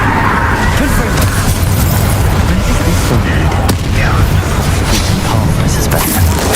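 Combat spells in the Hogwarts Legacy video game set off dense, booming explosions and crashes over a constant roar of effects. The blasts are loud and close, layered with smashing and whooshing impacts.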